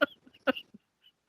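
Two short, sharp coughs, close and fairly quiet, followed by a small throaty sound and then near silence.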